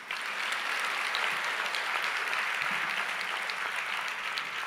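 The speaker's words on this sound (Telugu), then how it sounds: "ఇప్పుడు కొట్టరు చప్పట్లో." A church congregation claps together in steady, dense applause that holds for a few seconds at an even level, with no voices standing out.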